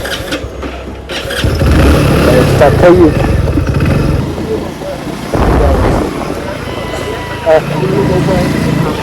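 A Hero Splendor motorcycle engine cranks and rumbles steadily up close, running loudly throughout while people talk over it.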